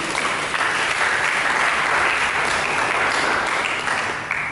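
A church congregation claps loudly and continuously during a Sunday service, a dense, sustained wash of many hands close by with no break.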